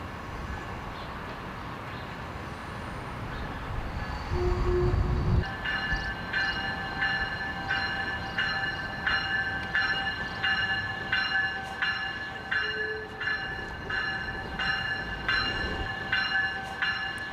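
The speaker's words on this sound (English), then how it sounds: "This northbound train is a South Shore Line train." A South Shore Line commuter train rumbles past close by, steady and loud, with a brief horn note early on and a rhythmic clatter of wheels over the rail joints.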